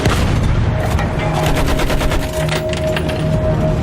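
Dense, continuous gunfire from Battlefield 1, a World War I game: rapid machine-gun bursts and rifle shots overlap in a loud, unbroken barrage with no clear pauses.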